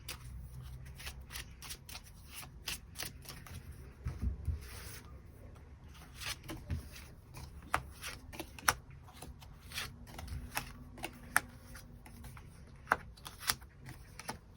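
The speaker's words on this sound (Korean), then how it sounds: "추가 카드 뽑아보도록 하겠습니다" Tarot cards being shuffled and drawn for a weekly reading, giving a steady run of soft riffling, flicking and slapping card sounds close to the microphone, with sharper snaps of individual cards laid down throughout, alone without talk.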